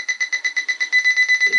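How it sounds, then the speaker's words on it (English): Rapid electronic beeping from a close Quest XPointer Max metal detector pinpointer on a non-ferrous target, about ten pulses a second that speed up toward the end. "the beeps is getting faster"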